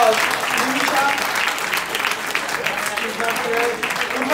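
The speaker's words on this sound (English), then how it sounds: "Give her a big round of applause." A room full of people at a Jain Society of Houston honoring event applauds an honoree, steady mid-level clapping with voices murmuring and talking underneath.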